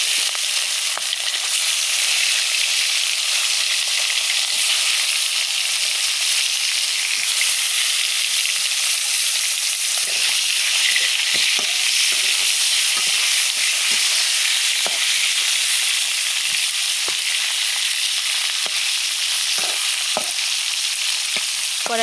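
Fish frying in oil in a village kitchen pan, a loud continuous sizzle with crackles and pops throughout, no voices.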